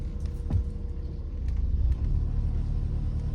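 Steady low car engine rumble from inside a moving car, a continuous drone that swells slightly about halfway through, with no talking.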